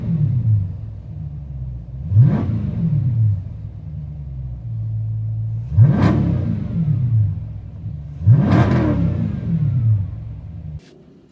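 A Dodge Scat Pack with its mid and rear mufflers deleted rumbles at idle, heard from inside the car, then roars through three loud, sharp revs that drop back to a deep burble.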